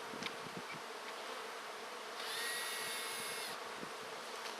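Honeybees buzz steadily around an opened hive in a row of hives during spring cleaning, a dense near drone that swells louder partway through, with faint handling clicks.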